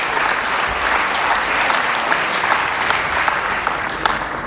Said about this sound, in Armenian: Եկեք ծափահարենք մեր սիրելի հանդիսատեսին։